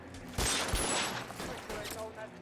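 Rapid gunfire in the detective game L.A. Noire, a dense burst of shots near and loud for about a second, then tapering into scattered fainter cracks with a voice talking over it.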